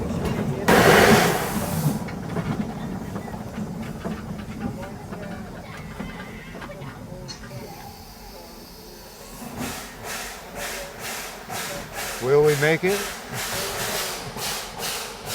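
Steam locomotive blowdown at Roaring Camp: a loud hissing burst of steam early on, then rhythmic chuffing and a whistle-like tone as the train moves, with people talking throughout.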